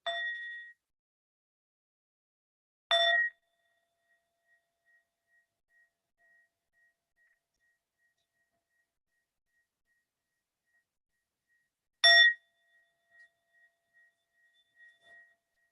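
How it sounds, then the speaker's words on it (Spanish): A small bell is struck three times, clear and bright, each strike ringing out and slowly fading, with long silences between the second and third. "So let us enjoy 3 sounds of the bell."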